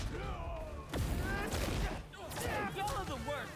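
Gunfire from gangsters in the Spider-Man 2 video game, bursts of shots and impacts under dense combat noise and speaking voices throughout.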